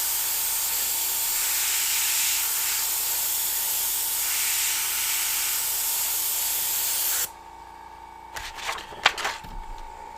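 An airbrush sprays blue paint through a freehand shield, a steady loud hiss lasting about seven seconds, then cutting off into quieter handling noises and small clicks.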